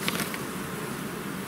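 Honeybee swarm buzzing at a hive, a dense, continuous insect drone that stays close and steady throughout with no voices.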